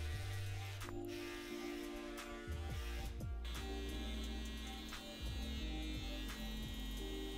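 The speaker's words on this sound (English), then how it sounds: "I'm gonna follow that by using my electric shaver now, just to get a lot closer to the scalp" A steady close-up electric shaver buzz hums continuously against a scalp during a fade haircut, its pitch wavering slightly as it moves, with no talking.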